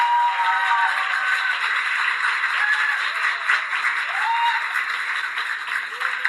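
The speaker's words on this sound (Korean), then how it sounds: "박수로 환영해 주십시오." An audience applauds to welcome a speaker to a book-talk lecture: sustained, even clapping from a crowd, with a faint tonal background underneath and no speech.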